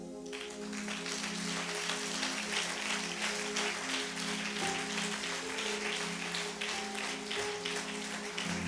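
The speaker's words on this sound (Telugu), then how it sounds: "చప్పట్లు కొట్టండి గట్టిగా." A church congregation clapping hands during a Telugu sermon, a dense, continuous wash of applause that stays steady and fairly loud throughout with no voices standing out.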